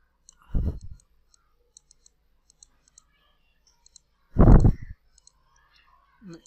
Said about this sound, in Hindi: मैं इस पर आ जाता हूँ और यहाँ से प्रिंट स्क्रीन पर क्लिक कर लेता हूँ